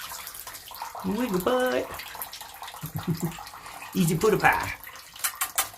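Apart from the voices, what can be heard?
shower water running while a parrot bathes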